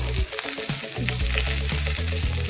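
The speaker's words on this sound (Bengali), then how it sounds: "তেল দিয়েছি তো তার মাঝে আমি লঙ্কা আর পেঁয়াজটা দিয়ে দেবো" Chillies and onion fry in hot oil in a wok, a loud continuous sizzle with rhythmic scraping stirs repeating steadily throughout.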